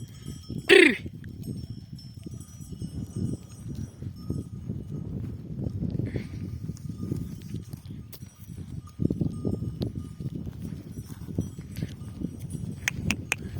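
A mixed flock of sheep and goats mills about on village hillsides with clinking cowbells and shuffling hooves, a sharp bleat early on, steady animal movement throughout without talk.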